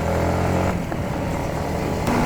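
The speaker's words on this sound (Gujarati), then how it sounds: "बाइक को थोड़ा भगाया जाए." A motorcycle on a group ride near the Mahuva lighthouse in Bhavnagar speeds up, its engine a steady, close drone that holds throughout, with no one talking.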